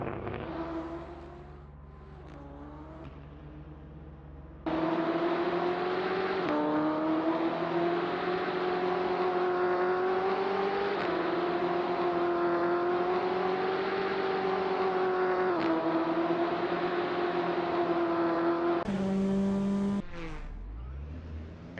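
A BMW race car engine in a sim racing game screams at high revs, rising and falling with shifts. It cuts sharply to another car note near the end, loud and with no voices.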